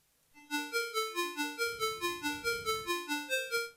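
Massive synth layer built on the Wap Wap preset in FL Studio for a trap beat, playing a steady run of about fourteen evenly spaced plucky, harmonically rich notes in a bouncing melodic pattern, clean and alone.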